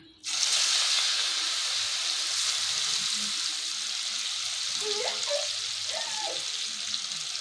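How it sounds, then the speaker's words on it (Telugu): Chicken bajji, batter-coated chicken fritters, go into hot oil with a sudden loud, steady sizzle that keeps hissing continuously, with a faint voice briefly audible in the background. "నూనె కాగింది కదా బిడ్డ ఇంట్లోకి వేసేసుకోవాలి"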